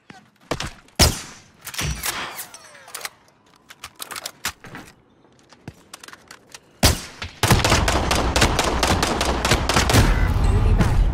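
Gunfire in a firefight: scattered single shots and bursts early on, then a sustained, loud rattle of rapid automatic fire near the end.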